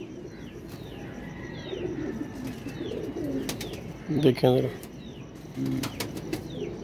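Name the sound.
pigeons cooing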